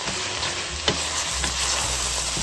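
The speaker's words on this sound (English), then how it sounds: "make sure you stir it well, because nothing's worse than having a clump of garlic in one spot of your soup" Garlic sizzles steadily in a soup pot for a cream of asparagus and leek soup, with a few soft scraping clicks from a spoon stirring it through, close and continuous without any talk.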